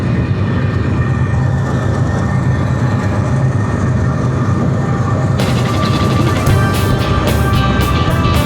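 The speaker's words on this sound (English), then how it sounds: "here comes a train." A passing train heard from a Yamaha Xmax 300 scooter on the road: steady, loud low rumble and wind noise throughout, with rhythmic clattering of rail cars growing louder and more pronounced in the last few seconds as it goes by close.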